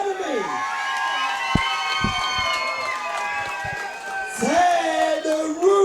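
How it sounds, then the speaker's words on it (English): A crowd at a kickboxing title fight roars and cheers continuously, with rising whoops and shouts layered over the din, swelling louder toward the end. "the crowd has erupted for this one."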